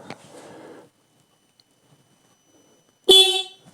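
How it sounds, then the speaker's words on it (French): A motorcycle's stock horn gives one loud, close honk after brief background noise and a quiet pause, ringing for about half a second before cutting off. "Alors, le klaxon, il est là."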